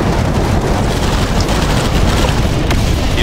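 Airstrike and EMP cannon blasts in the mobile shooter Tacticool, loud rumbling booms that merge into a dense, continuous roar of explosions with a few sharper cracks.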